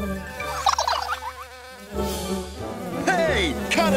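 A busy cartoon insect buzz of mechanical bees hums steadily with shifting pitch, close and fairly loud, as of bees swarming around.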